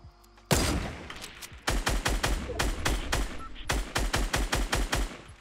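Gunfire from a weapon in the video game Fortnite: Battle Royale, a loud close burst of sharp rapid shots in uneven volleys with brief gaps, heard alone without talk.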